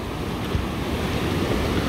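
Ocean waves wash onto the beach at Tarifa on a windy day, a dense, continuous roar of surf and splashing water with wind buffeting the microphone, loud and close, with no voices.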